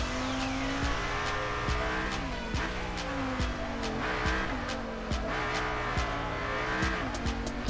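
A car drifting in the mobile game Deriva Max Pro, with a continuous engine drone rising and falling through gear shifts, tires squealing in long skids, and repeated sharp clicks over the top.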